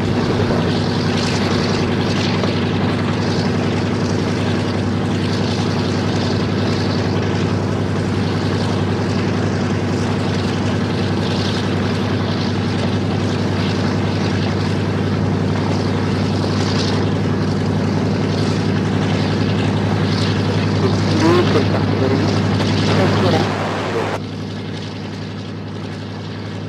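Douglas DC-3 vintage propeller airliner, restored, with piston engines droning loud and steady at close range, a constant low hum with harmonics that drops off sharply near the end as the engines throttle back.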